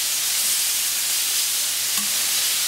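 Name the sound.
beef fillet sautéing with paprika in a pan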